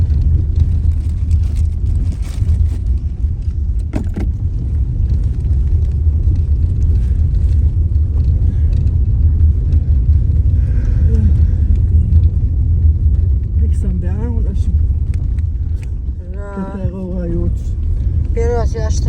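A family car on the road gives a loud, steady low-frequency rumble and engine drone inside the cabin, continuous throughout, with people's voices rising over it near the end.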